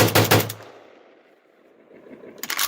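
A Kalashnikov Komrad 12 shotgun with light loads fires a quick burst of sharp, loud reports at the start, followed by a fading echo, then another shot begins at the end.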